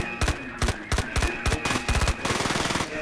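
Machine gun fire rattles in the video game I.G.I 2, loud bursts of rapid shots in short clusters that end in a longer sustained volley.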